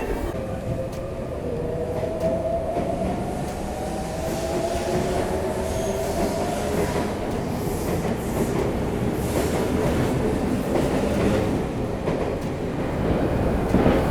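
A train pulls into a station in Tokyo on a commuter transfer toward Shinjuku, with a steady loud rumble of rail cars, rising wheel squeal and clattering over the tracks, and no talking.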